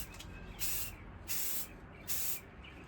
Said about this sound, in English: I always do a test spray.